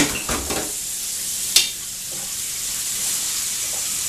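Chicken pieces frying in hot oil give a steady close sizzle, with a few clattering knocks at the start and a sharp clink partway through.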